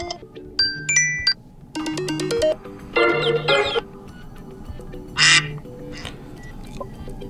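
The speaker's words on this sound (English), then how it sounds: "tap on the ringtone section and simply choose the ringtone that you would like to use" An iPhone 14 ringtone plays in short melodic bursts of bright electronic tones, with brief pauses between phrases and a quacking duck-like tone among them.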